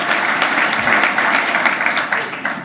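An awards ceremony audience claps loudly and continuously, a dense wash of hand applause that holds steady, then tapers slightly at the end.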